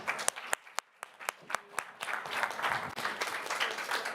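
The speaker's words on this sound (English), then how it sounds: "I want to ask you all to join me with a huge round of applause to thank our panel." Conference audience applauding to thank a panel, a few sharp early claps quickly swelling into steady dense applause from a room of people.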